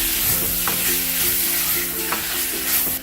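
Keema mixture with turmeric powder and salt being stirred in a hot pan, a steady close sizzle with repeated scraping strokes of the spoon, no voices.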